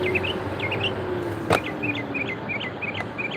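A loud bird perched on top of a structure near a drive-thru chirps in a steady string of quick, bright calls over a low rumble, with a sharp knock briefly cutting in.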